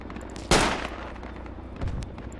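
Gunfire in the military shooter game Project Reality: two sharp shots, the first loud and near, the second duller and lower, over a low background rumble.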